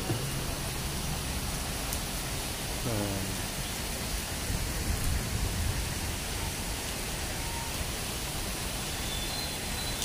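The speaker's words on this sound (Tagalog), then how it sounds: "sobrang lakas ng ulan" Very heavy rain at Manila Zoo roars as a constant broadband wash, with a brief tonal sound and faint voices buried under the downpour.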